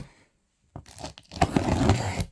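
A parcel package is torn open, with a short handling rustle followed by a long, loud, close tearing and crinkling of packing material that continues to the end.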